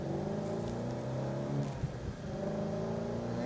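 A 2020 Ford Mustang GT350 engine pulls steadily through the gears, with a loud continuous rev and a short dip partway through as a shift happens, then rising again; no talking.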